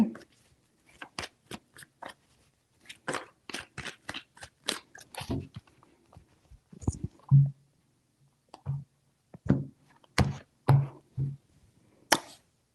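Tarot cards are shuffled by hand in a series of sharp, crisp riffles and taps in close succession, then a few spaced clicks, close up and quiet, with no talk.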